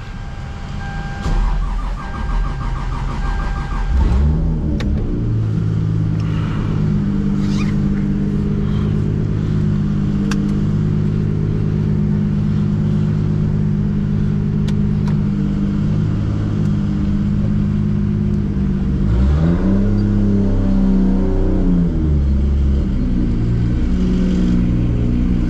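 A big-turbo MKIV Toyota Supra with a straight-pipe exhaust cruises and accelerates, its loud engine droning close and steady with rising and falling revs through gear changes.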